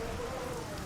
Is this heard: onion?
no